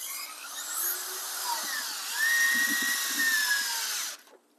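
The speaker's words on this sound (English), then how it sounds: "now we're going to hit it with the 5-inch screws." A power drill drives 5-inch screws through plywood into 2x4 lumber with one sustained whirring run. The pitch rises partway through as the screw bites, then the drill stops abruptly, with no talking.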